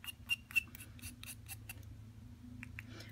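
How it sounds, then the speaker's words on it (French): Scissors blade scrapes a dry pastel stick in a run of short rasping strokes, close and soft, a few sharper scratches among them, then a brief pause before more scraping. "et on vient gratter notre bâtonnet de pastel sec"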